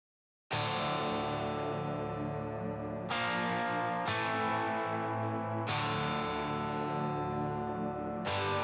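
Heavily distorted electric guitar power chords strike and ring out, about four sustained hits in a slow rhythm, loud and close, with no voices.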